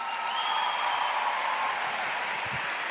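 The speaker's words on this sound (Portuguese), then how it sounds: "Pode aplaudir mais uma vez." A crowd in a church gathering applauds in a steady, moderately distant wash of clapping that holds evenly throughout.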